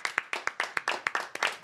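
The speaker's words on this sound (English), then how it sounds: "Let's clap it up for the room." People in a radio studio room clap together in a quick, steady rhythm, about a dozen distinct claps in under two seconds, close and fairly quiet with no talking.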